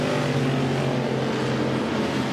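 Speedway race cars roar around the oval at Waikaraka Park in a continuous, loud engine drone with no break, several cars running close together late in the race.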